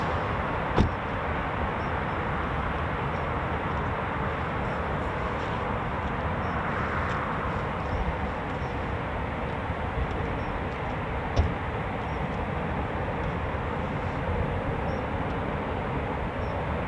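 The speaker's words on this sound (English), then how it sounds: "as the Typhoon is taxiing to the holding point to depart from runway 25" Eurofighter Typhoon FGR4 jet taxiing to the holding point for runway 25 at RAF Coningsby, a steady broadband engine roar and whine held at constant level throughout, with a couple of brief clicks.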